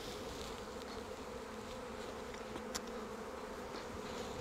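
Honey bees swarm around an open Flow Hive during an inspection, giving a steady, close, droning buzz with faint individual insects zipping past, with no talking.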